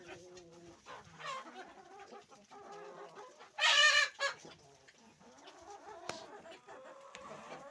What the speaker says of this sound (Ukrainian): Курочки наші теж всі їдять.